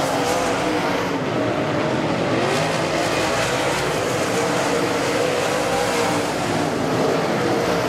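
A pack of dirt track race cars roars on together, a dense, loud, continuous engine drone with no breaks and no talking.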